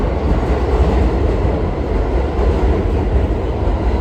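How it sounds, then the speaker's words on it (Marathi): Loud, steady rumble of a New York City metro train running, a dense low roar of wheels on track from inside or beside the car, continuous throughout with no speech. "आपली जशी मेट्रो असते तशीच ऍक्च्युली मेट्रो आहे यांची न्यूयॉर्कची"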